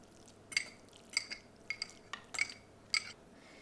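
Flour, brown sugar and butter being mixed in a bowl for a sweet potato casserole topping, with spaced clinks and scrapes of a utensil against the bowl, quiet and close.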